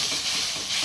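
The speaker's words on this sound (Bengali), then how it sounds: "আর এই যেখানে হচ্ছে বাঁধাকপি ভাজা করছি" Shredded cabbage frying in a pan gives a steady close hiss of sizzling steam, continuous and fairly even in level, with no talking over it.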